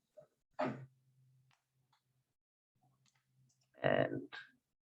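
Computer mouse clicks while working in an Excel spreadsheet, a couple of distinct close clicks separated by quiet stretches with a faint low hum underneath.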